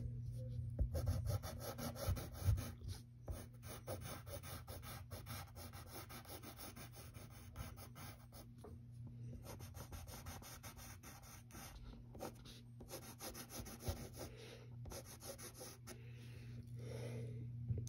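A pencil drawing straight lines and curves on paper for a Batmobile sketch, a soft continuous scratching and rubbing in strokes, quiet and close over a low steady hum.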